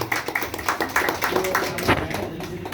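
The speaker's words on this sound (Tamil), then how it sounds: "அவங்கள ஒரு கைத்தட்டி கொடுத்துருக்காங்க." An audience at a community meeting in Kuwait claps hands, a scattered patter of close claps in an uneven rhythm, with voices talking underneath.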